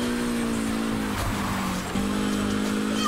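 A car drifting in the racing video game Need for Speed Heat, its engine holding a steady loud drone while the tone dips and wavers through the slide, with faint tire noise under it.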